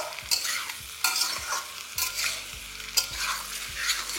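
Potatoes, cauliflower and spring onion stalks frying in a pan over medium-high heat under a steady sizzle, with about four sharp spatula scrapes and stirring knocks spaced roughly a second apart.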